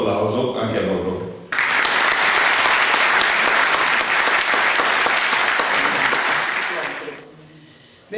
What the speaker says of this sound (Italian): vogliamo fare un grosso applauso anche a loro